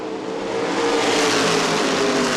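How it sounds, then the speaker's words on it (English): Late model stock cars accelerating together at a restart at Winchester Speedway, a dense, steady roar of engines building slightly in loudness, with no audible talk. "going back to the restart because they didn't complete a lap, put Spillers back in the third spot, and the green is out"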